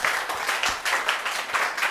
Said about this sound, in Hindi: देखो भाई तालियां।